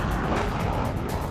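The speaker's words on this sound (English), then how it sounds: "the deafening roar of jet engines can be heard across RAAF Base Tindal" A loud, dense roar of fighter jet engines on takeoff at RAAF Base Tindal fills the whole moment, broad and steady like a jet powering up nearby, with afterburner thrust and no talking.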